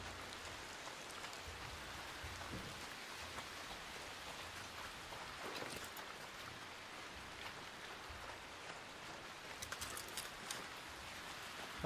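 Rain in an Unreal Engine 5 game, a steady, dense patter of drops on surfaces, uniform and fairly faint, with no speech over it.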